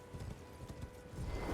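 Quiet, rhythmic clip-clop of horse hooves trotting at a steady pace in a video game, fairly soft and close, with no talking.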